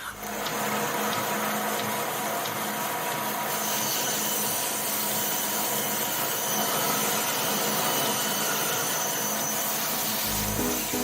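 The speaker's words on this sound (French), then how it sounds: "Alain peut désormais passer à la découpe des rayons sur la fameuse machine de son grand-père" An old band saw, once a grandfather's, cuts wooden wheel spokes in an Auvergne wheelwright's workshop, producing a steady, loud rasping hum that runs unbroken throughout.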